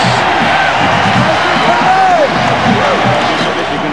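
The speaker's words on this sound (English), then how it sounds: "And they're cheering loudly as their defensive fellows are doing a fine job" A huge football crowd of about 105,000 roars continuously at Michigan Stadium during a 1997 Wolverines game, a dense, loud wash of cheering and shouting with no pauses across the whole span.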